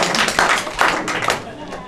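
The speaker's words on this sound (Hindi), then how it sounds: "जोरदार तालियां बजाइए उनके लिए।" A studio quiz audience applauds a contestant, producing a few short bursts of clapping mixed with tapping and thumps, fairly close and loud, as a host speaks over the top.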